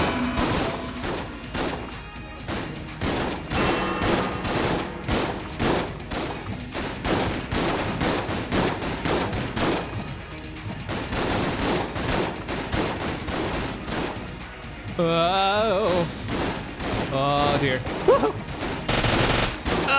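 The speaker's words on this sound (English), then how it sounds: "let's use the shotgun that shoots shotguns" A shotgun that fires shotguns, from the video game Enter the Gungeon, blasts over and over in rapid irregular volleys. The dense, loud booming runs throughout, with chirpy game effects near the end.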